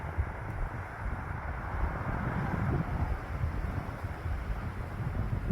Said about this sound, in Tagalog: naririnig nyo siguro guys yung malakas na hangin dahil super ang hangin niya dito